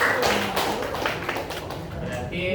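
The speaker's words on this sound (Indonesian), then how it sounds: "Tepuk tangan untuk Mas ya." A group claps together in a steady patter of many hands, with voices mixed in under the clapping.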